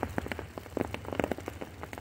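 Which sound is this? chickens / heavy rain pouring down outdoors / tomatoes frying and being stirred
heavy rain pouring down outdoors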